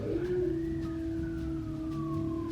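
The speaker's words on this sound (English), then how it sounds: "There's an ambulance and my neighbor's dog is howling now." A long wailing ambulance siren with slow rising and falling tones, steady and fairly loud, with a dog's howl-like drawn-out note riding along with it.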